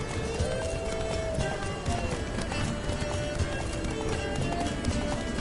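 Rapid hoofbeats of a galloping horse in The Witcher 3 pound steadily over a dense, busy game soundtrack with music and effects throughout.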